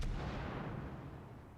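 A single heavy boom from the destroyer Benson's guns in World of Warships, loud and close, with a long rumbling tail.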